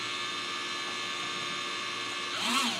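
Small quadcopter motors on a model Spruce Goose aircraft spin with a steady, tonal, humming whine that holds evenly, then rises briefly at the end.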